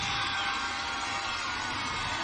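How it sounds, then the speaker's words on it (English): Crowd cheering from the Edgar sideline at a WIAA Division 7 state championship football game, a steady, distant wash of shouting and cheers that stays even for the whole stretch. "getting another big cheer from the Edgar sideline"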